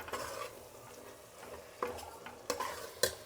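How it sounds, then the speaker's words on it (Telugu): A spoon scrapes and stirs chili powder and coriander powder through a tomato masala in a frying pan, soft sizzling beneath a few sharp metal clinks against the pan, close by and without talk. "ఇప్పుడు ఇందులో 1 స్పూన్ కారము, 1 స్పూన్ ధనియాల పొడి ఇప్పుడు కలుపుకుందాము"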